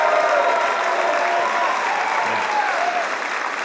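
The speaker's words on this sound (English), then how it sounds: "please, another round of applause from Mr." Loud, full applause from a stand-up comedy club audience, close and continuous, with a faint crowd murmur and a brief voice running underneath.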